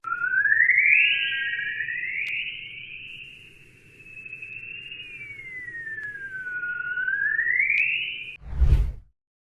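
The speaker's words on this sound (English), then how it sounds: "turned into sound, they resemble chirping or birdsong, but they're not alive" Earth's magnetic waves turned into sound: smooth warbling tones swoop up and down like chirping birdsong, layered and sustained over a faint hiss, ending in a brief soft thump.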